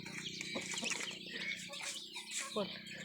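Chickens cluck and squawk close by on a small farm, quick irregular calls overlapping with a voice talking over them.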